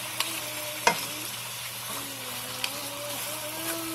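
Jamaican curry goat is stirred in a pot on the stove. A soft, steady sizzle carries a few sharp spoon knocks against the pot.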